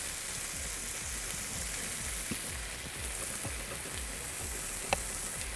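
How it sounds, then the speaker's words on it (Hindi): Eggs cooking in hot oil for a sandwich, a steady soft sizzle with faint crackles and a few brief pops throughout. "ऑयल कुकिंग आपने इसमें इतना शामिल करना है कि ये अंडे जो हैं अच्छी तरह से कुक हो जाएं"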